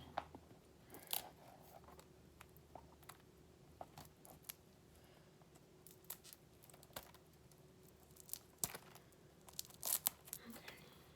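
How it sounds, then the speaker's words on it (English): Plastic wrapping being pulled and torn off a pochette bag, with quiet crinkling and several sharp tearing crackles close to the microphone over a soft background. "just get the plastic off."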